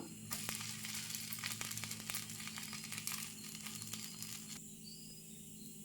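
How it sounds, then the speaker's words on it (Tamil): Dosa batter frying on a hot pan during home breakfast cooking: a steady, quiet sizzle with faint crackling and a few sharp ticks, running throughout and thinning near the end. "தோசை சுட்டுட்டு இருக்கேன் திருப்பி போட்டுக்கலாம்"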